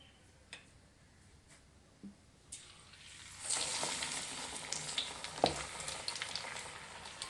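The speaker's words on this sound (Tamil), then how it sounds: "எண்ணெய் காய்ஞ்சிடுச்சு. இப்போ நம்ம வடையை தட்டி போட்டுக்கலாம்." Banana flower vada, village style, dropped into hot oil: a few faint taps come first, then a soft, steady sizzle and bubbling take over and continue with small crackles, close but quiet.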